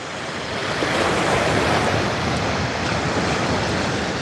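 Sea waves wash onto the beach at Lowestoft on the UK's east coast, a loud, continuous broadband roar of surf with wind noise and no voices.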